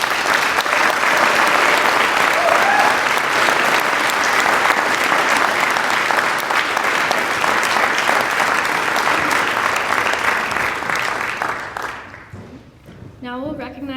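A round of applause for initiates at a university convocation: sustained loud clapping from an audience that fades out near the end as a voice begins speaking.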